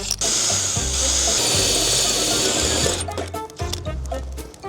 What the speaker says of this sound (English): It's not really getting air enough, so I got to drill.